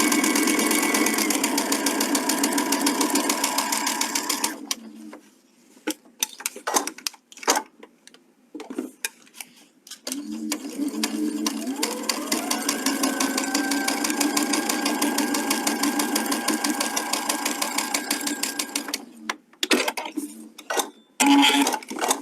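A sewing machine runs in quick, steady bursts while stitching quilt pieces, its rapid mechanical chatter stopping briefly for a few short pauses before picking up again, close and clear.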